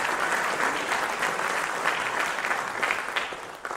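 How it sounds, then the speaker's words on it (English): Sustained audience applause at a McPherson College fall band concert, a full hall clapping steadily for nearly four seconds before it begins to thin out at the end. "That deserves a round of applause."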